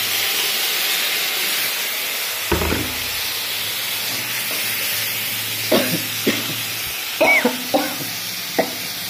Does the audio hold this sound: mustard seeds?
yes